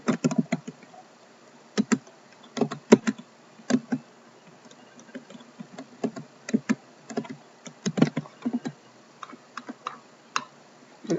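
Fingers type route data on a computer keyboard, irregular bursts of close clicky keystrokes with short pauses between them and no voices.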